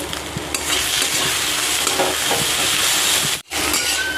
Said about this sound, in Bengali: গরম মশলা গুঁড়োটা দিয়ে নাড়াচাড়া দিয়ে নামিয়ে নেব